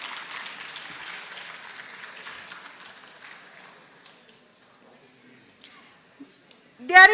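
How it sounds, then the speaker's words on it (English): A ceremony audience at an International Women's Day award event claps for the winners as they come up to receive their prize, a fairly loud burst that thins out and fades to near quiet, ending with a sudden nearby sound. "Congratulations and a big round of applause, please."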